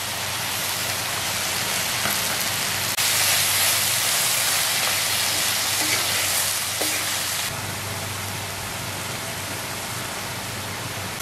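Chopped fenugreek (methi) leaves sautéing in a pan on a simmering stove, a dense, even sizzle that holds steady and close throughout, with no voices.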